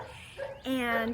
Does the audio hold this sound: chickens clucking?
no